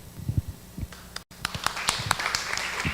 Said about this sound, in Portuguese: Uma salva de palmas mesmo.